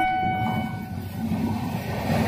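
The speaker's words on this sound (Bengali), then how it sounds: "এই যে ট্রেনটি ঢুকলো দেখতে পাচ্ছ," A Canning to Sealdah train pulls into Betberia Ghola station, a steady low rumble of wheels and carriages with a sustained horn tone early on, continuous and fairly close throughout.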